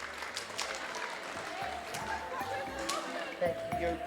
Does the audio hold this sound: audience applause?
yes